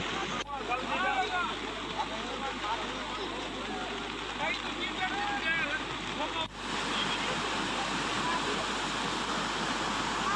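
Floodwater rushes over the overflowing Bhakharvad dam in Junagadh district after heavy rain, a steady, dense roar of churning water filling the whole stretch, with a brief dip partway through.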